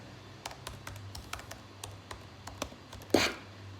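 Keyboard typing at a desk, a quick irregular run of light key taps close by, ending with one louder clack, with no talking over it.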